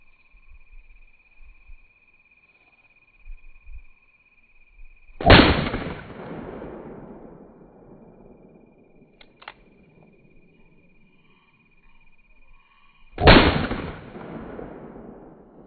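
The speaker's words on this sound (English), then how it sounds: "This is the large 357 Magnum." .357 Magnum revolver fired twice several seconds apart, each shot a loud sharp crack followed by a long fading echo over a steady high tone, otherwise quiet.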